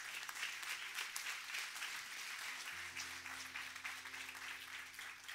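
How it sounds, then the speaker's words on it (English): Audience applause at a talk, a steady, fairly faint wash of hand clapping with a low background hum running underneath throughout. "Can we give God a big hand clap of praise?"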